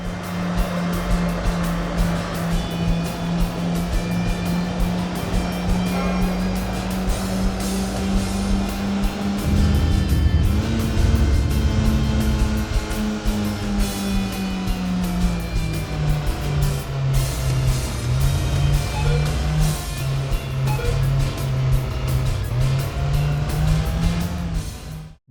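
Honda Civic Type R engine in a PS2 racing game, a steady synthetic engine drone that shifts pitch a few times as the car accelerates, loud and continuous with no talk.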